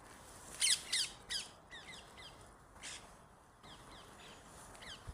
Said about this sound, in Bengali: দেখেন একটা কাক